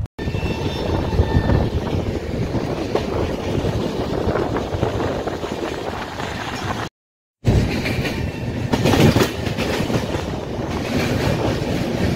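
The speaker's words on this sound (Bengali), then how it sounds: "আমাদের ট্রেন এখন বিজয়নগরম স্টেশন এসে পৌঁছেছে" An express train arrives at Vizianagaram station, rumbling loudly and steadily nearby with rhythmic rattling, cutting out briefly before the heavy rolling noise returns.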